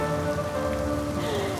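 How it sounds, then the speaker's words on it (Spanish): Rain falls steadily during a road trip, a close, continuous patter and hiss of drops on a surface, holding an even level with a faint tonal hum beneath and no voices. "está lloviendo, o sea que no nos hace falta el agua bendita."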